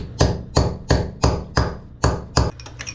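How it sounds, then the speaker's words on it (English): Seven sharp metallic hammer blows on a chisel breaking out old screws from a 112-year-old toilet flange, evenly spaced and close, ringing briefly after each strike. "I'm gonna get a chisel and break the rest of those out."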